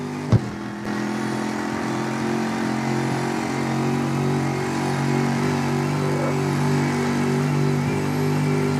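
Sports car engine in the CarX Street video game, modeled on a BMW M3 GTR with a 6-speed sport gearbox and straight-cut gears, droning steadily under load with a brief click at the start.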